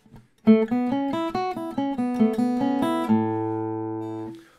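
A short guitar phrase of clipped, muted notes plucked in quick succession, each cut off sharply, ending on one final chord that rings briefly.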